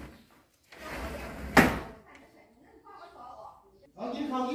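A door bangs shut once near the middle, a sharp close knock amid household movement and speech, with more talking following in a busy home as people get ready to leave.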